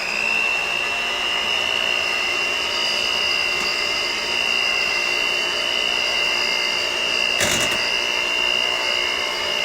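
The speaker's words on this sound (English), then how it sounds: "use this hand mixer to mix 1 minute," An electric hand mixer whirs steadily through cupcake batter in a home kitchen, a constant high motor whine with a brief clatter near the end.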